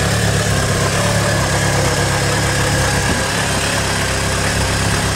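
A Vauxhall Astra engine, freshly rebuilt and running with no coolant in the system, idles with a steady, loud, close mechanical drone and low rumble that holds evenly for about five seconds, with no talking.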